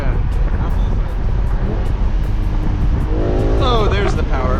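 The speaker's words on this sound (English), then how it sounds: "you have to wring the engine out to redline to feel those numbers" A 2008 BMW M6 engine revving hard toward redline, a loud rising roar climbing in pitch near the end, with talk inside the car underneath.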